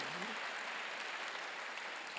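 Congregation in a church applauding during a theology school graduation service, a steady wash of clapping heard from a distance with a faint voice at the start.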